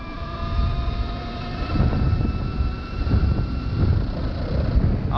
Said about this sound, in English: I hit a engine limiter right there